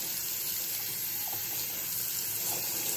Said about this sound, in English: now let's run some water on this to see whether it repels any better